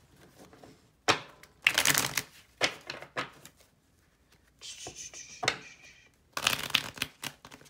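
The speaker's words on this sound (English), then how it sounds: "Shuffle three more times." Tarot cards being shuffled in several quick riffling bursts, close by, separated by short pauses and occasional soft handling sounds.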